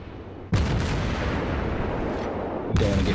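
Two booming naval gun shots from a World of Warships battle, the first a loud blast followed by a long rumbling roar, a second heavy boom landing near the end, with no talking.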